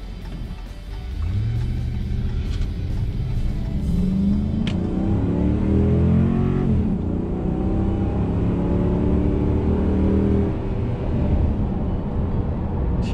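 A 2018 Ram Power Wagon 2500HD accelerates up to speed, its engine rising steadily in a loud, continuous rumble with rising harmonic tones, close and alone without talk.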